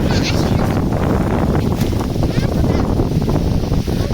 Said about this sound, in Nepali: तपाईँहरू हावा यस्तै भेट्नुहुन्छ 24/7 यहाँ चाहिँ।